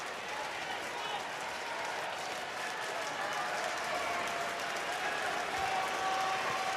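A stadium crowd at a college baseball game, the Georgia Bulldogs playing Oklahoma in the College World Series, cheers and applauds in a steady, dense roar heard from a distance, with no pause throughout.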